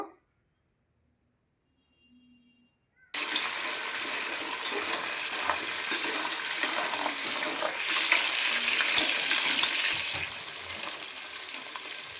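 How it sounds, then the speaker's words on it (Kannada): Crab stir-fried into a sizzling tempering for crab gravy: after a few seconds of near silence, loud continuous frying hiss bursts in close, with stirring scrapes and clatters running through it. "ಒಗ್ಗರಣೆ ಚೆನ್ನಾಗಿ ಬೆಂದಮೇಲೆ ಏಡಿ ಹಾಕ್ಕೊಂಡು ಚೆನ್ನಾಗಿ ಮಿಕ್ಸ್ ಮಾಡ್ಕೋಬೇಕು"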